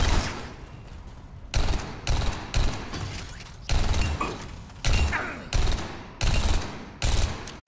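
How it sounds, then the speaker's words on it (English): Sombra's spraying gun in Overwatch 2 fires in repeated short automatic bursts, about eight separate volleys with brief pauses between, loud and close. "her gun just sprays"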